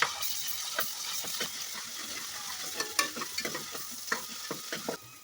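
Ginger garlic paste sizzles in a pan of well-sautéed onions for tomato biryani, a steady close crackle broken by repeated stirring scrapes.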